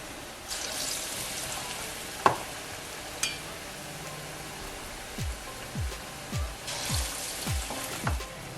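Potato and cassava bondas fry in hot oil with a steady, close sizzle. Soft plops and gurgles join the sizzle toward the end as more pieces drop in.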